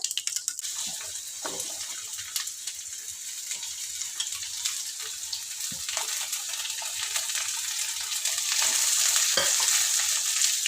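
Chopped onion fries in hot oil with peanuts, cumin and mustard seeds in a pan for chutney, a steady close sizzle with occasional stirring scrapes, growing slightly louder toward the end.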